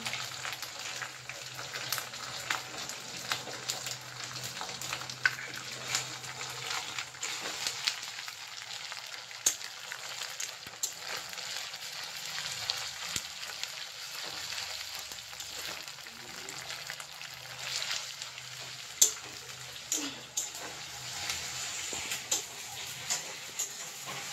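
Cumin paste frying in a curry pan gives off a continuous low sizzle, with scattered sharp crackles and pops and occasional scraping of stirring throughout.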